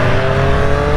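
A 2021 Triumph Street Triple RS three-cylinder motorcycle engine revving hard, a loud, steady, close engine roar with dense harmonic tone, filling the whole short moment without talk.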